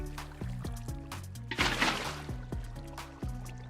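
Water placed in Minecraft: a short watery splash and gush swells up mid-way, over steady, gentle background music.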